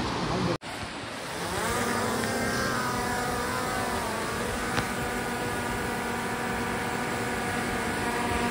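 A drone lifts off at a prewedding shoot in Revdanda, Alibag, its motors rising into a high whining pitch after a sharp click, then settling into a steady buzzing hover at moderate distance.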